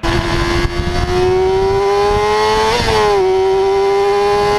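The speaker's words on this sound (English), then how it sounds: "I just bought myself a Honda CBR 600RR motorcycle" A Honda CBR 600RR motorcycle engine revs loudly and steadily up close, its high-pitched whine climbing slowly, then peaking in a brief blip and easing back to a sustained rev, with no one talking.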